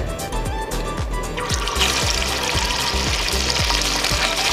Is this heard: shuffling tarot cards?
no